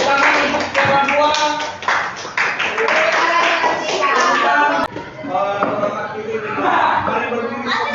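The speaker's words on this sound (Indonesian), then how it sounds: "Tepuk tangan untuk Deborah." Students in a Grade 7 classroom at a junior high school clap together, loud and close, with rhythmic claps mixed with voices and cheering throughout.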